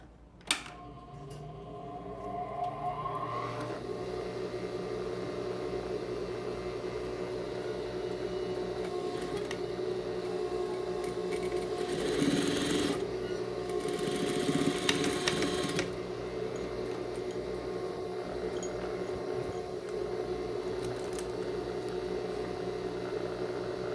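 Sewing machine stitching a shoulder alteration, a continuous rapid motor hum and needle rattle running steadily for over twenty seconds with slight shifts in pace, close up and without talk.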